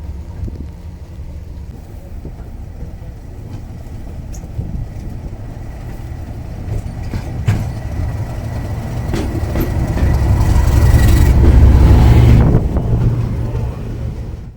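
Class 37 diesel locomotives arrive at a heritage railway gala, their deep engine rumble building steadily to a loud peak near the end, heard from a footbridge with wind buffeting the microphone.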